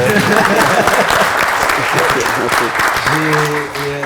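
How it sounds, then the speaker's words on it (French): Audience applause greets a Senegalese diaspora guest, a dense burst of clapping from a crowd that continues under a speaking voice and thins near the end. "Il faut l'applaudir, s'il vous plaît"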